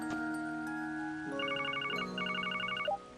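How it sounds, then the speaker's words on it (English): A phone rings in the video game Trails to Azure, giving two bursts of rapid, warbling electronic trills over soft, steady background music before a brief sharp sound at the end. "Got a phone call."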